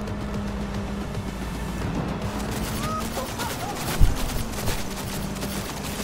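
Gunfire in the video game Cyberpunk 2077, a sustained stream of rapid shots over a busy game soundscape, with one heavy impact near the middle.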